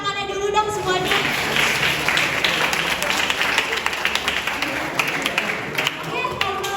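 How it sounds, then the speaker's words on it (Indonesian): An audience applauds a student at a high school gathering, a dense wash of clapping that swells and holds for several seconds before thinning out, with voices talking around it. "Tepuk tangannya dulu dong semuanya"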